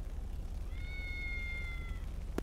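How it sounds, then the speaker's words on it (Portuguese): A cat lets out one drawn-out, tense meow in a room, fairly close and clear over low background rumble, with a short knock right after it. "o gato tá puto aí, o gato."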